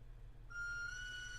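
A faint, steady train-whistle ringtone starts midway and holds a single bright tone against quiet room background.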